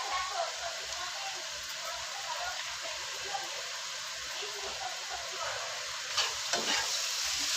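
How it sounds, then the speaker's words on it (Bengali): Pasta with pasta spice mix and tomato sauce is stirred in a hot pan: a continuous sizzle with soft, rhythmic scraping and a louder clatter near the end. "নাড়িয়ে নিচ্ছি।"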